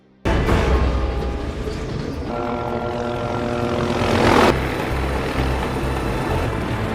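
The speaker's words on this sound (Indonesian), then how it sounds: "Helikopter mendarat di atas gerbong kereta untuk menurunkan tim Bravo" A loud helicopter roars in suddenly and stays close, landing on top of a train carriage, its rotor and engine drone swelling to a peak before settling into a steady near hover.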